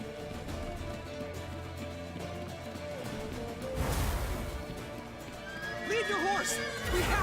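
A horse in The Witcher 3 whinnies and snorts, with clip-clopping hooves under the game's ambient sound. Voices talk over it, and a sharp burst of noise cuts in midway.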